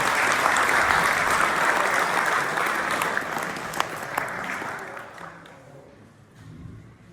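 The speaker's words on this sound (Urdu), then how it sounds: "تو آپ کی تالیوں کی گونج میں جناب چودھری مکرم فلاح صاحب." Audience at an Eid Milan party breaks into loud clapping that swells at once, holds as a dense patter, then gradually fades toward scattered claps near the end.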